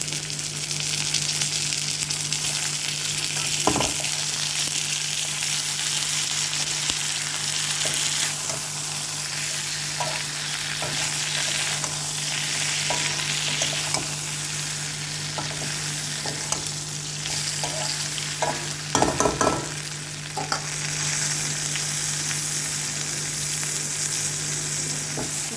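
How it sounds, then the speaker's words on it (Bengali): A fish head fries in a pan, a continuous loud sizzle with a steady hum beneath, broken by occasional scraping stirs and knocks of a utensil, including a cluster of clatter near the end. "এবার আমি একটু মাছের মাথাটা দিয়ে দেবো।"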